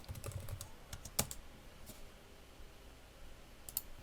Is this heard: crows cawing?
no